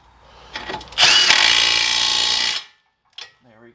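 An 18mm socket on a power tool tightens the front wheel bearing nut on a 2003–2011 Saab 9-3. A loud, close whirring run of about a second and a half follows a brief start, then it stops abruptly, with a short click after.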